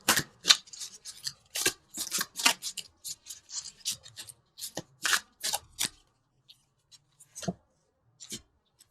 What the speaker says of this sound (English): let's pull a couple universal love cards